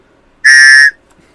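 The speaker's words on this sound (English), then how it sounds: "it has a very, very distinct sound. Not like most other whistles" A single flat, reedy whistle blast sounds close and loud for about half a second, a buzzy train-like tone, then silence.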